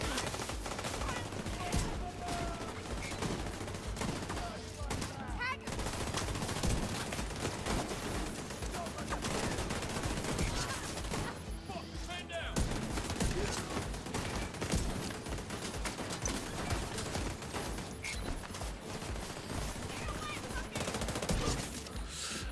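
Sustained automatic gunfire and rapid bursts of shots in The Division 2, dense and loud throughout with brief lulls, and a voice talking faintly underneath.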